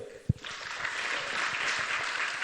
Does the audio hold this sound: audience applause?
yes